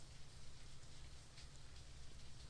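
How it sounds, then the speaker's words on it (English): Heavy rain falling steadily in a video game, a dense, continuous hiss of drops with a low rumbling undertone, even in level and fairly quiet throughout with no talking. "It's raining pretty heavily outside."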